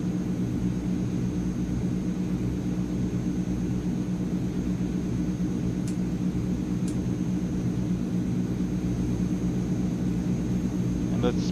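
Steady droning Transall C160 aircraft engines in Microsoft Flight Simulator, a continuous low rumble filling the whole stretch with a couple of faint high blips over it.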